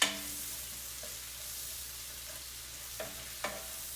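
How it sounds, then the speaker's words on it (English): Mushrooms cooking in a pan with chicken thighs give a steady soft sizzle, broken by a few brief scrapes and clicks of a utensil stirring. "We're gonna add our mushrooms."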